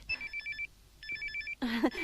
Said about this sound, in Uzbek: Telefon kelib qoldi.